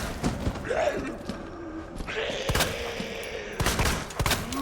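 Rapid gunfire in a Resident Evil video game: several sharp, loud shots in quick bursts with thuds and mechanical clicks between them, over steady game background noise.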